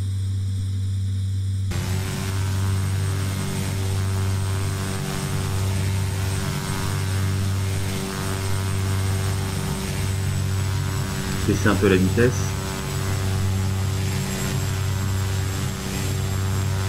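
Beechcraft B200 King Air turboprop in the X-Plane 10 flight simulator, cruising off the coast near Pornic, gives a steady droning engine hum with a high whine, continuous throughout while someone talks over it.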